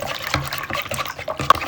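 Warm water poured into a cup while making pancake batter, a short splashing liquid sound in a few soft bursts, close by and alone.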